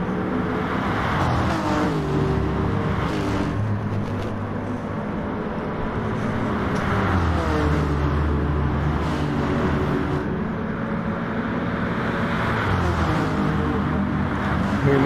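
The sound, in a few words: Honda NSX race car driving at Monza in racing video game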